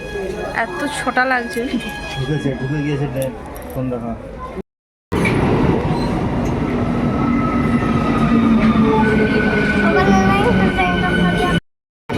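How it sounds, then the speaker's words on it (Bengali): A train arriving at a station in hot sun, loud rumbling wheels and carriages with squealing tones and steady clatter close by, briefly cut twice, with a voice talking over the first part. "দেখো দাঁড়িয়ে পড়েছি ট্রেন কিন্তু চলে আসবে"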